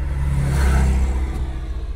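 Car engines idle and rumble in a traffic jam on the road to Crimea, a steady low drone from nearby vehicles with a slight swell midway, no talk.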